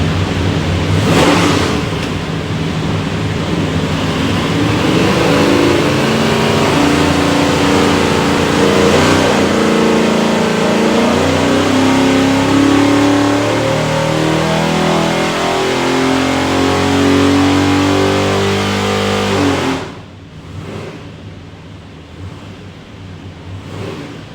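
A 582ci big block Chevy engine built for an airboat runs on a dyno, roaring loud and close as it climbs steadily in pitch through a long sustained pull, then drops abruptly back to a lower idle rumble.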